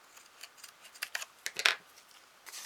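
Scissors snip through a small paper card for a pocket letter, a series of quick crisp cuts in an uneven rhythm, close and fairly quiet, with no talking.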